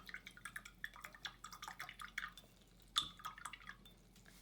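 Paint brush swished and tapped in water, a run of small, quiet drips, splashes and clinks in an irregular rhythm, close and faint, with no talking.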